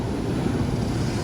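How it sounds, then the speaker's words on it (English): Storm-driven waves in a tropical storm surge up and wash over the outside bottom step of a house in Antique, Philippines, making a steady, dense rushing roar mixed with wind buffeting, continuous throughout without voices. "These waves are making it up, and it's washing over my bottom step on the outside out there"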